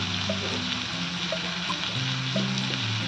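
Ground turmeric, chili powder, ginger powder and salt frying in oil in a pan for a Bengali shrimp and pointed gourd dish, a continuous gentle sizzle with low tonal hum beneath and no talking.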